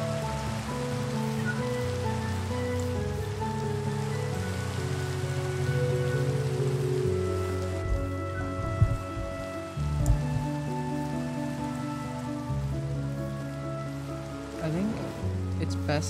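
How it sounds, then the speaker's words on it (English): Steady rain patters continuously at a moderate level, half-buried beneath sustained music and a few soft knocks. "Well, it's nice and raining again."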